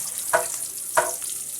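Bay leaves dropped into hot oil while cooking rohu fish bhuna, giving two short bursts of sizzling over a steady close frying hiss, with no talking.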